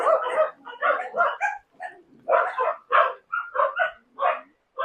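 Dogs barking in a run of sharp, close barks, several in quick clusters with brief pauses between, loud and clear with no talking.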